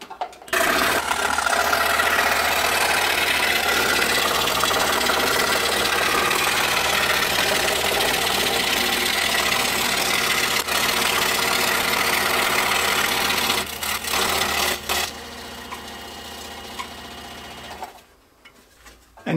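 A power saw cuts a circle around the perimeter of a wooden wheel for a fraction calculator, a loud, sustained buzzing whine that holds steady for about fifteen seconds, then falters and drops away near the end.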